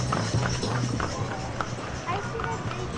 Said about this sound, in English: Here's a horsey.